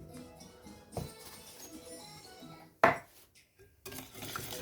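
Ingredients for raisin-bread dough with salt and vanilla being mixed in a bowl, giving soft scraping and stirring with a few sharp clinks of utensil on the bowl, quiet and close with pauses between.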